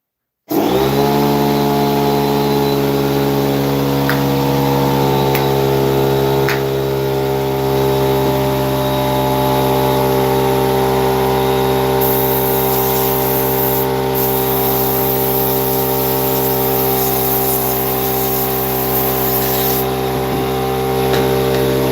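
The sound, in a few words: air compressor running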